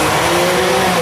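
A Ferrari 360 Modena engine runs steadily and loudly up close, a continuous mid-pitched drone that rises slightly in pitch near the end, with no talking over it.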